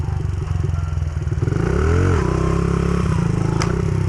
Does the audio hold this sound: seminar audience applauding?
no